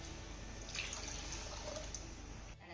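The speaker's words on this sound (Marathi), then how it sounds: "डाळ घालून झाल्यानंतर यामध्ये ना 1 ग्लास भरून मी गरम पाणी घालतीये" Hot water poured from a glass into dal in a pan, a steady close trickling and splashing pour that runs for a couple of seconds before stopping abruptly.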